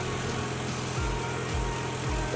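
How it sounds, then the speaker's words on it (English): An air pump supplying a hot air pencil for desoldering gives a steady, fairly quiet droning hum with a low, rhythmic pulsing undertone. "The pump noise you can hear is the air supply for the air pencil."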